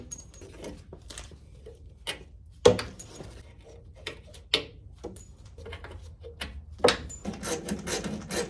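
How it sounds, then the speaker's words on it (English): A hand file works over spot welds on an old AMC Rambler and Jeep Cherokee body panel, giving quiet, irregular rasping strokes punctuated by a few sharper metallic scrapes, close to the microphone with no talking. "File these appropriately."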